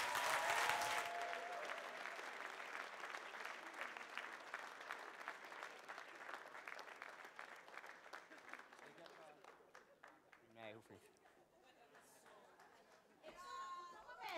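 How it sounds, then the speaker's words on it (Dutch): Audience at the Global People Awards 2023 breaking into loud, dense applause that gradually fades while chatter rises, ending with a brief renewed burst of clapping and voices nearby. "Geef hem een applaus dat ik terugkom."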